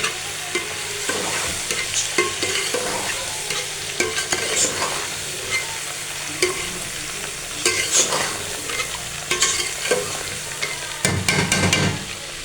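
Okra stirred with spices in a frying pan, a steady oil sizzle with repeated spoon scrapes and knocks against the pan, close and fairly loud, with no talking.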